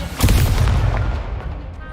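An Incendio fire spell is cast in Hogwarts Legacy as a loud, close whooshing boom that rolls on for a moment as a dense, rumbling burst and then thins out.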